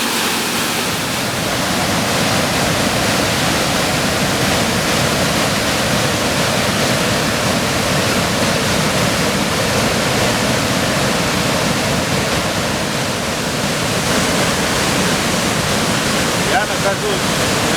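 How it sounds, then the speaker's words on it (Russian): Rapids on the Apaporis River at Jirijirimo in the Colombian Amazon, a loud, constant roar of rushing water close by, with a voice speaking beneath it. "Я нахожусь в реке Апапорис, рядом с порогом, который называется Хири-Хирим."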